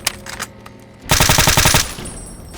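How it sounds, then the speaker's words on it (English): Rapid automatic gunfire in the video game Fallout: New Vegas, a loud, close burst of about a second of evenly spaced shots after quieter sounds, with no talking. "Nice shot, Boone."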